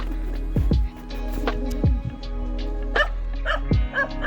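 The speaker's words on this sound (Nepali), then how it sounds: "कुकुर भुकिरहेछ।" A dog at a mountain cattle shed on a Nepali hill trail barks three times, loud and close, spaced about a second apart, with some lighter yelps and whines between.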